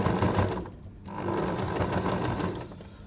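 A sewing machine stitches through a thick stack of nearly four layers of cotton and two layers of toweling on a plus-sign patchwork quilt, running steadily and close with a brief pause near one second.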